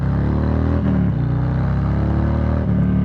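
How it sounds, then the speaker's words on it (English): A pre-owned 2020 Low Rider S motorcycle with low miles idles with a deep, steady rumble, then revs up twice in quick blips that lift the pitch before settling back, loud and close throughout. "oh my God, this bike sounds good"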